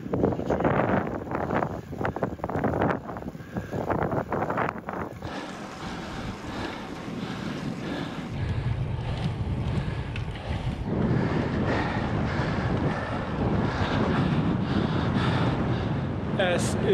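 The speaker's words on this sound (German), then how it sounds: "Es ist windig." Strong wind buffets the microphone on the Brocken summit in a continuous roaring rush with gusty swells, loud and close throughout, while people talk underneath.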